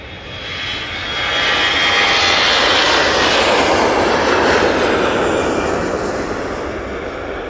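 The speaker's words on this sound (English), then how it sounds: "A321 Neo now on the roll." A Jet2 Airbus A321neo on its takeoff roll at Manchester Airport, jet engines swelling into a loud, broad roar that holds strong and then slowly eases as the aircraft moves away.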